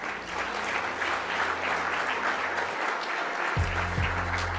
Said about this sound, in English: please keep that applause going for the MC of the day